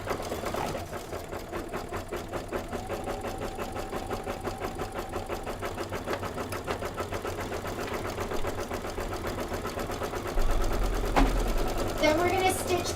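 A Kimberbell embroidery machine sews a satin outline on a design with fast, steady mechanical stitching that keeps running close by for the whole stretch, with a slight shift in tone near the end.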